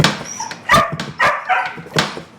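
A dog barks repeatedly at a Kawasaki 175 Bushwacker motorcycle, giving several sharp, close barks mixed with whimpers and yips at an irregular rhythm.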